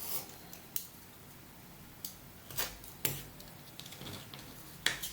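Scissors snip through fabric on a craft table in a handful of short, crisp cuts spaced irregularly, close but fairly quiet against a soft background hiss.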